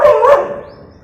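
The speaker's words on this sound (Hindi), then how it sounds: "ये ना इनको देख के भौंक रही है और मेरा व्लॉग इंटरप्ट कर रही है।" A female dog barks loudly and close by at people it has spotted, a couple of quick overlapping barks fading into a quieter tail.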